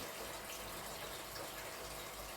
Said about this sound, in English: All I can hear, and I've got really sensitive hearing, is the water flowing.